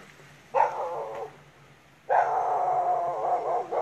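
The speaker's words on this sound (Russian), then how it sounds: "Это со мной разговаривает собачка из соседнего двора" Dog barking from a neighbouring village yard, two bursts of sustained barking and yapping at moderate distance, the second longer, with no voices.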